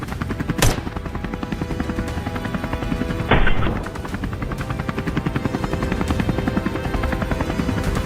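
A helicopter on a wild boar hunt lifts off and flies ahead under a blazing afternoon sun, its loud, close rotor thudding in a continuous rapid beat with a couple of sharp bangs breaking through.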